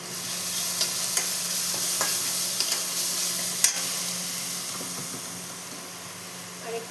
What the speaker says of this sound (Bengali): সামান্য একটু জিরে গুঁড়ো দিয়ে দেবো